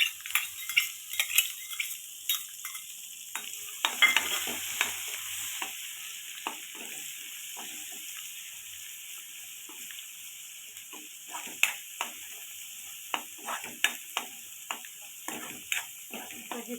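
Garlic, coriander and ginger paste sautés with cumin and mustard seeds in hot oil for a millet khichdi, a steady close sizzle broken by repeated scraping and clinking stirs of a spoon against the pan.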